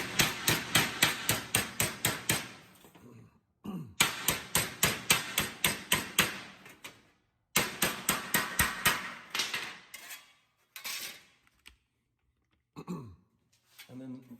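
Rapid, evenly spaced glancing hammer blows ring on sheet metal for a Chevy squarebody truck bed in several bursts, loud and close, separated by short pauses with a voice in between.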